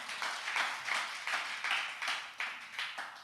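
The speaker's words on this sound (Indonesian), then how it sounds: "Tepuk tangan buat Tuhan" Church congregation clapping during a Sunday worship service, a fairly quiet, rhythmic unison clap in steady beats, repeating about twice per second.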